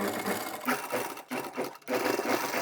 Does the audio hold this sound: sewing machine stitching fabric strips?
yes